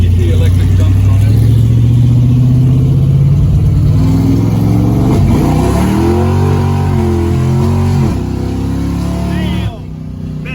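A 426 Hemi Daytona engine revs loudly nearby, its deep rumble rising and falling in pitch through several throttle swells before easing off, with someone talking over it.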